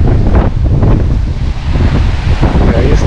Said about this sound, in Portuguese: Aí viemos aqui na beira, mas é sempre muito vento